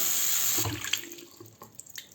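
Water running from a tap into a sink during a home repair, a steady hissing stream that cuts off partway through, followed by a few scattered drips and small splashes.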